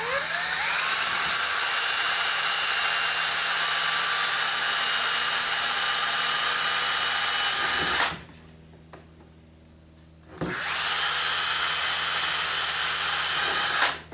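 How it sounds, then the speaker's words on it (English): Power drill boring holes into a model rocket's payload bay, a loud steady whine running for about eight seconds, cutting out briefly, then starting again near and alone. "We can drill it right now."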